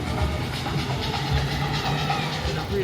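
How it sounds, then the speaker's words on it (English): Volk's Electric Railway train running along the Brighton seafront, a steady rumbling roll with faint rhythmic clatter and hiss, heard from inside at close range with no talking. "A really good little trip on the electric train"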